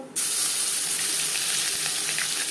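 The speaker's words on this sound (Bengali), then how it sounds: "কুড়ি পঁচিশ সেকেন্ড পাঁচফোড়ন তেজপাতা ভেজে নেওয়ার পর" Panch phoron and a bay leaf hit hot oil and burst into a sudden, bright sizzle that keeps hissing steadily and close up.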